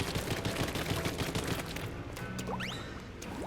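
Bomb blasts in Splatoon 3 gameplay: a loud, dense cluster of crashing bursts over the first two seconds, then fading to a softer rumble with rising whistling tones.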